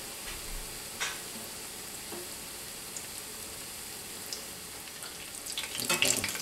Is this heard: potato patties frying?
yes